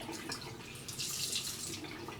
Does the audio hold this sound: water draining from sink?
yes